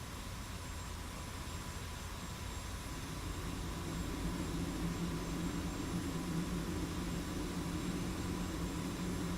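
Steady, loud roar of an F-86 jet engine in flight in a Cold War combat video game, a continuous broadband drone that swells slightly after a few seconds and holds without pause.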